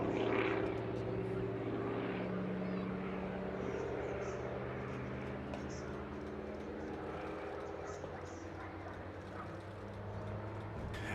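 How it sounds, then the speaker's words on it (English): A Hawker Fury piston-engine fighter flies past at an airshow, its steady propeller drone sustained across the whole stretch with a constant, fairly loud hum, while crowd and commentary-box voices murmur underneath. "here is the Hawker Fury, and a magnificent beast it is indeed"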